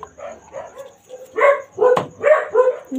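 Several dogs bark and yip in quick, overlapping bursts close by, loud and excited, with short whimpers between, in a kitchen where cooking is done over a wood fire.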